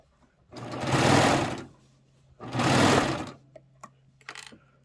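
A serger sewing machine stitches a pillow back in two loud close bursts of whirring, each lasting about a second, followed by small clicks and handling noises.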